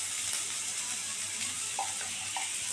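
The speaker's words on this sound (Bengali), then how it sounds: "জল দিয়ে মশলাটা ভালো করে কষিয়ে নেব" Water hisses and bubbles steadily as it is poured onto cumin, turmeric and other spices cooking in a pan, with a few soft clinks at close range.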